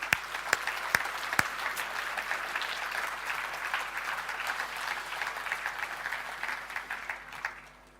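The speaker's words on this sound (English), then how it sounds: "Big round of applause for them." A hall full of people at a JET celebration event gives a sustained round of applause, with a few sharp claps at the start before it settles into a steady, fairly distant clapping that fades near the end.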